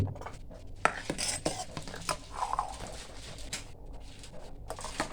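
Fresh milk is stirred in a pot as it thickens on the stove, with irregular metallic clinks and scrapes of a spoon against the pot, some sharper knocks, and a soft bubbling underneath, heard close.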